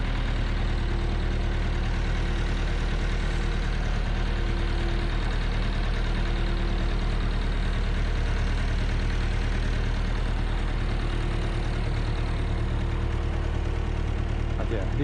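A tractor engine idles steadily throughout, a constant low, loud rumble with a throbbing mechanical knock, close and continuous, with no speech.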